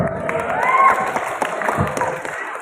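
Students at a Ramadan school programme clap for a classmate, a moderate, fairly even round of applause with some crowd murmur and a brief voice riding over it.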